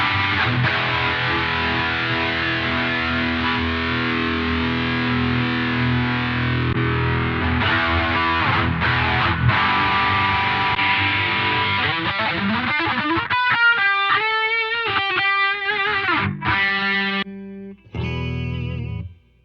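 A heavily distorted electric guitar plays through a Boss GT-1000 multi-effects processor, sustained chords giving way to choppy riffs and quick, seamless patch changes with brief gaps near the end.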